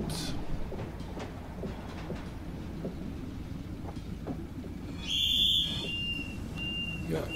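A train conductor's whistle in the Train Simulator Classic video game, one shrill sustained blast about a second long sounding over the continuous rumble of the train, with no talk.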